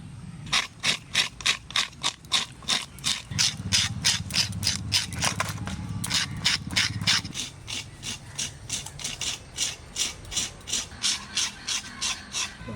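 A large 4 kg sea fish being scaled by hand, with rapid rhythmic rasping strokes scraping off fine scales, close and loud, steady throughout with a low rumble underneath for part of the time.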